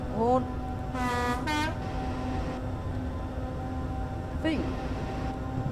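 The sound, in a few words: Class 317 train horn in video game Train Simulator 2016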